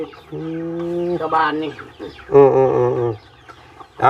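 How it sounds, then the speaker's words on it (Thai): A chicken clucks close by on a rural Thai homestead in a few drawn-out, nasal calls with short gaps between them, and someone speaks briefly between the calls. "ไก่"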